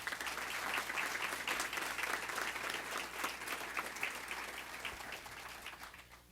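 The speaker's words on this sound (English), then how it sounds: "let's give her a round of applause" A school board of education meeting claps for an absent student who won a California State PTA award, a fairly faint, even wash of many hands that swells briefly and then tapers off toward the end.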